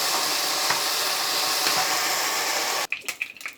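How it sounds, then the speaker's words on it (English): Batches of beef fry in hot oil with a steady, dense sizzle that cuts off near the end, leaving faint clinks and scraping. "Now I started frying the beef now in batches in oil."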